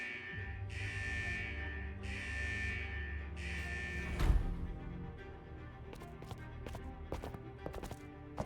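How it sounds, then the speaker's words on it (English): In Wuthering Waves, the vault's central alarm blares in three long, even buzzing blasts with short gaps, followed by a low boom and a scatter of sharp clicks and ticks. "Is that the central alarm of the vault?"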